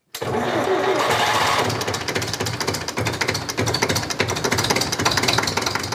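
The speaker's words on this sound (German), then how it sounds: "Nach kurzem Vorglühen und längerem Anlauf, der Motor springt an, der Apparat läuft." An old tractor's diesel engine cranks at length after brief glow-plug preheating, then catches and settles into a loud, rapid knocking idle, running steadily close to the listener.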